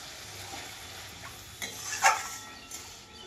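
Spices frying in a pan make a faint, low sizzle, broken by a few clinks of a utensil against the pan near the middle.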